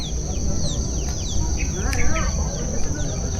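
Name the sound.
family of chickens clucking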